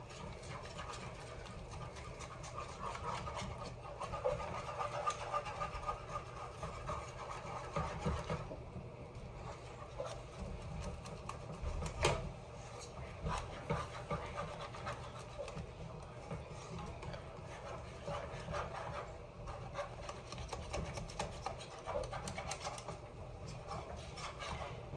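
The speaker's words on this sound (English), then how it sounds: "I'm just gonna keep whisking this till all the flour's gone." Whisk scraping and rattling steadily against a pot as flour and milk are beaten into a thick mac and cheese sauce, a continuous near rubbing texture with faint background noise.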